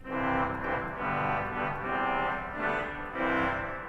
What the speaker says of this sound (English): Then we've got a petite trompette,